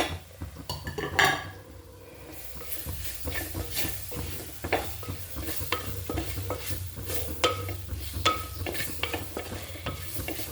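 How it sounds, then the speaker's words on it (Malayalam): Chopped tomatoes frying in coconut oil for a country-style chicken curry, a continuous close sizzle broken by repeated scraping and clinking of a spatula against the pan. "നമ്മൾ അരിഞ്ഞ് വെച്ച തക്കാളി ഇട്ട് കൊടുക്കുകയാണേ"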